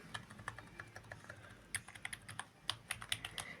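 Rapid clicky keystrokes on a Dark Elite Force GK1000 mechanical-feel gaming keyboard, uneven bursts of typing close by, getting louder and denser toward the end.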